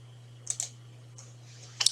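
Computer keyboard typing in a database program, a few sparse, quiet key clicks over a steady low electrical hum.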